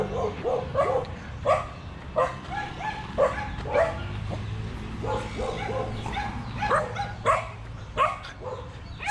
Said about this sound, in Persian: چقدر سگ داره اینجا